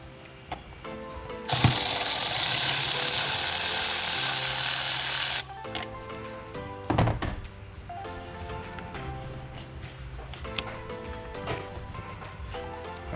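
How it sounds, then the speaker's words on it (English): A power tool whirs steadily for about four seconds while loosening a 7mm hose clamp on the throttle body of a 2023 Ford F-150 5.0L, followed by a sharp knock and scattered close mechanical clicks and taps. "So that's gonna be a 7mm, I believe, the clamp right on the throttle body. We'll loosen that up"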